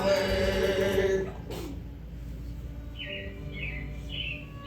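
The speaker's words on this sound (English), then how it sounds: "It looks like the Robins are getting ready to celebrate Valentine's Day today." Animatronic robins on the Carousel of Progress ride at Walt Disney World's Magic Kingdom chirp in three short, bright calls after music ends with a bang, set against a low indoor hum.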